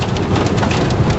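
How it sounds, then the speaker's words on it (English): Very large hail pounding a storm-chasing vehicle parked under a tree during a Texas thunderstorm, a dense, continuous loud rattle of impacts with no talk. "Okay, we have very large hail hitting the vehicle and we're under a tree."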